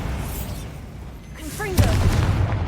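A Bombarda spell blast in the video game Hogwarts Legacy goes off as a loud, sudden boom over a low rumbling backdrop, with brief whooshing swirls just before it.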